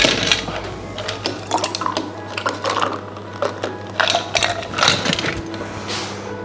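Ice cubes drop into a glass for an elderflower gin and tonic, a loud close run of sharp clinks and rattles, several bright knocks spread over a few seconds without speech.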